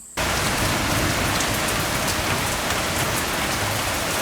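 Rain falls outside in a dense, steady hiss that starts abruptly and stays loud and even throughout, with no voices.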